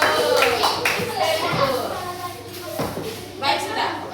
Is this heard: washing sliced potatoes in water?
no